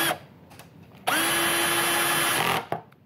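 A power drill drives bolts tight while assembling a steel pyramid-shaped wood and coal fire pit, one steady whirring burst of about a second and a half, loud and close, with short clicks before and after.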